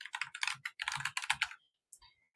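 Computer keyboard typing as a title is entered, rapid close clicking in two quick bursts followed by a couple of isolated keystrokes.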